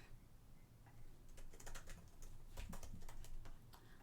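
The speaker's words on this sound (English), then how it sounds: "I type the way the ASMR people type." Quiet, rapid typing on a computer keyboard in an ASMR-like style, a dense run of soft clicking keystrokes against faint low background hum, with no voices.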